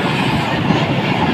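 Pakistan Railway 18 Down Express running on the Sargodha to Karachi line, a steady broadband rumble and rattle of the moving train heard from close by, continuous with no clear breaks.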